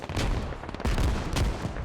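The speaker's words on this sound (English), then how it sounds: "Another explosion." Booming blasts in a military video game, two or three heavy explosive bursts with rumbling tails in quick succession, loud and close with gunfire-like cracks.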